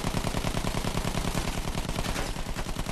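Dense, continuous rapid gunfire from Battlefield 1, loud and unbroken for the full span, with rattling automatic fire layered over a heavy low rumble of battle.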